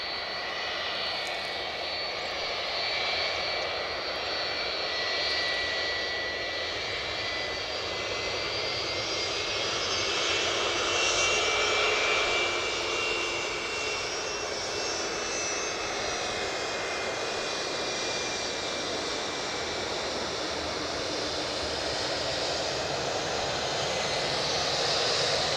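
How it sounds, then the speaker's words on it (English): An aircraft on final approach to Edinburgh Airport drones steadily for the whole stretch, a broad engine roar with high whining tones that swells gently midway and stays moderately loud throughout, with no talk over it. "we do have an aircraft on final approach"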